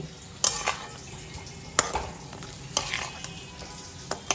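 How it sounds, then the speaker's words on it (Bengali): Prawns with cashews, raisins and a little milk stirred in a pan with green chillies, a steady sizzle under several sharp scraping strokes spaced a second or so apart, close and fairly loud, no voices. "এটা দিয়ে আমি চিংড়ি মাছটাকে নাড়াবো"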